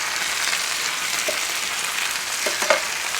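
Brussels sprouts with spinach saute in a pan, giving a steady close sizzle with a few light scraping stirs and soft clicks.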